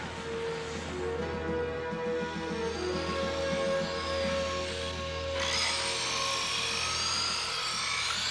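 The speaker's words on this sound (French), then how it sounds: "Apportez des scies électriques," A power saw grinds and whines steadily through material, the pitch shifting as it bites, with a harsher, brighter cutting tone partway through.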